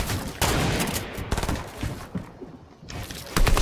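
Loud video game gunfire crackles in rapid bursts during a fight, with volleys near the start, a quieter lull in the middle and another sharp burst at the end, without talk.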